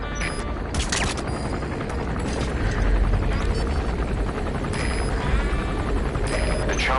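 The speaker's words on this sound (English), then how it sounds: "The chopper headed your way has turned back." Helicopter in a PS4 video game, a steady thudding rotor drone with scattered sharp bursts like gunfire over it, loud and continuous.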